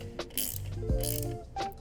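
Small 8mm wrench tightening nuts on a bicycle rear rack, giving a few quick ratcheting clicks and metallic scrapes spread over about two seconds, close by and fairly quiet, with no speech.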